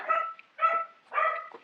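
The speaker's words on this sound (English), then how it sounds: "I apologize for the dogs barking in the background." Three dog barks in a steady rhythm, fairly close and clear, with short quiet gaps between them.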